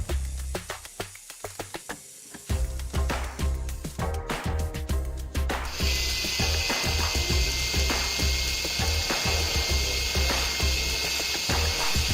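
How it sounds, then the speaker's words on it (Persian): A power drill spins a metal wire while a hand file works it round for a nautical-knot bracelet, giving a fast ratcheting, whirring mechanical chatter with rhythmic clicks and a bright rasping scrape that rises partway through. "با اتصال این مفتول به سر دریل با سوهان کشی به صورت چرخشی یک مفتول کاملا گردتر و یک دسته رو ایجاد کنیم"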